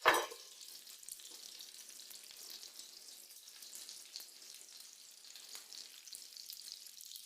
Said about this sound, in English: It's sizzling here nice and slowly, the fat can slowly drip out.